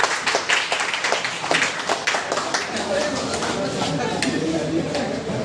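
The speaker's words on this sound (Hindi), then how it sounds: "तालियां इनके लिए।" An audience at a youth training camp held in a college hall claps together in a steady burst of applause that gradually thins out, with a voice speaking over it.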